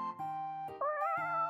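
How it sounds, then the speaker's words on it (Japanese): A cat meows several times in quick succession, clear and fairly close, with a rising drawn-out final meow. "猫の鳴き声がうるさくて"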